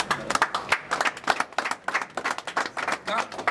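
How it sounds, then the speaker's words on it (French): Applause for a commander at a welcoming ceremony for a Chad chaplaincy colonel, a brisk run of sharp, closely spaced hand claps from a modest group, fairly loud and continuous. "Les applaudissements pour mon commandant."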